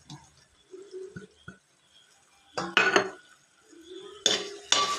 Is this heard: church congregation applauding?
no